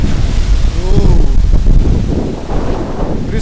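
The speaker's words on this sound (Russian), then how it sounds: "О, слушайте, какой ветер. Прям задувает." Strong gusting wind buffets the microphone outdoors near the sea, a loud continuous roar that swells and eases, with a voice exclaiming over it at the start.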